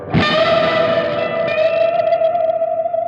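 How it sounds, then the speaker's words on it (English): Electric guitar through a Dumble-style amp, with less signal sent and mostly reverb on the return, a single struck chord blooming and sustaining into a long, steady reverb tail, alone and fairly loud. "Oh, so I can send less signal and just get the reverb to return."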